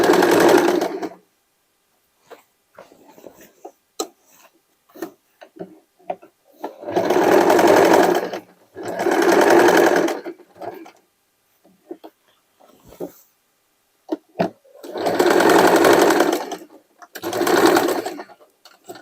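Sewing machine stitching denim, running in several loud, close bursts of a few seconds each with steady rapid whirring, separated by quiet pauses with faint handling clicks.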